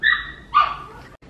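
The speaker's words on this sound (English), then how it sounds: "really annoying when you get like a dog in the background" A dog barks in the background of a room, two short, sharp yips about half a second apart, fairly faint, with no one talking.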